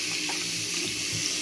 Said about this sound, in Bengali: এটা এখন পানি দিয়ে ভিজিয়ে রাখবো,